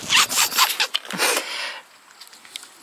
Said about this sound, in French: Donc le couteau, il est maintenu par un velcro.